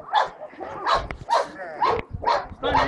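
A dog barks repeatedly during an outdoor training session, a string of close, sharp barks in an uneven rhythm mixed with a person's voice.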